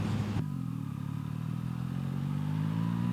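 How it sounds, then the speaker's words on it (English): A motorcycle fitted with a quick shifter drones steadily up close, with a sharp break near the start where the engine note drops as a gear clicks through. It then settles into a smooth, even pull with no voices. "just kicking down that quick shifter is so nice"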